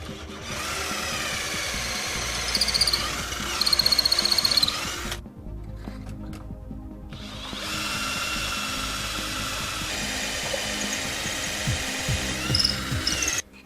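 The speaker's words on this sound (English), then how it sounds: "We'll start the hole with the original drill bit, and I will finish the hole with a 7mm breadpoint bit." A power drill runs in two long, steady bursts, boring a hole with a standard drill bit and a 7mm brad point bit, whining loudly and close with a brief pause between runs.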